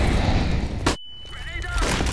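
A flashbang grenade goes off in a tactical shooter game: a loud, sharp burst, then a sudden drop to near silence and a high ringing tone as the sound slowly returns, with a voice talking beneath.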